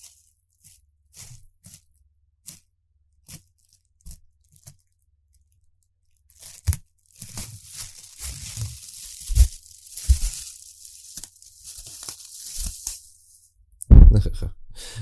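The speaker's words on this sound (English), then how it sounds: "now it's time for more of my special sound effects with foil" Sheet of aluminium foil crinkled and crumpled by hand as a sound effect at a miniature-painting workbench; sparse faint crackles at first, then a dense, louder burst of rustling and crunching, ending in one sharp close crumple.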